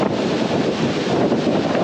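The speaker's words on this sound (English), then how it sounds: "the ocean breeze in our hair" Ocean breeze along the coast of Old San Juan, Puerto Rico, buffeting the microphone in a steady loud rush, with surf faintly underneath.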